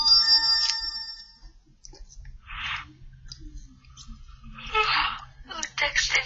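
Phone text message notification tone, a short bright chime at the start, followed by breathy vocal sounds and clicks.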